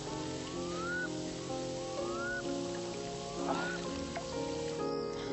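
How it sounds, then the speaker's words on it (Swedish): Steady rain falls throughout as a continuous, even hiss, with faint whistling tones drifting over it and no one speaking. "Men det regnar ju."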